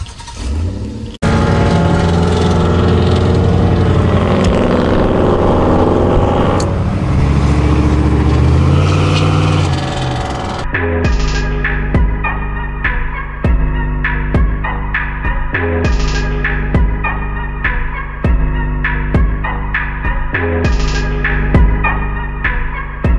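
Loud trucks at a truck meet drone with a heavy, throbbing engine roar, then give way to deep, rhythmic bass thumps from subwoofers pulsing at a steady beat.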